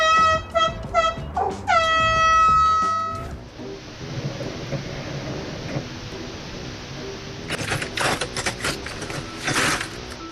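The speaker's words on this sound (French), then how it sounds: "il existe un dispositif spécial, le klaxon spécial ours." Several loud, harmonic blasts from a bear-scaring horn in quick succession, then a long sustained horn note that fades into outdoor rumble and scattered clatter.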